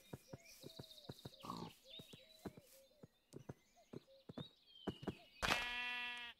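Short Minecraft sheep bleats recur among clip-clopping hooves and other animal noises, ending with a loud, buzzy bleat near the close.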